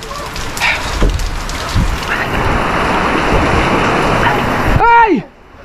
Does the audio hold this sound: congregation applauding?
no